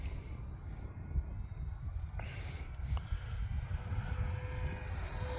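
An FMS P-47 radio-controlled model plane makes a fast pass at about three-quarter throttle, its engine drone faint and distant under outdoor wind noise and rising slightly as it nears.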